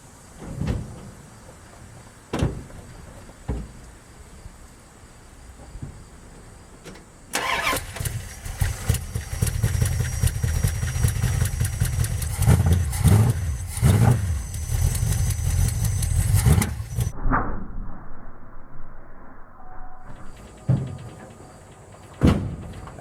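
A Dodge drag truck's 5.9 Magnum V8 with a header leak cranks and catches, rumbling loudly and roughly for about ten seconds before dying away, with clunks and knocks before and after the run.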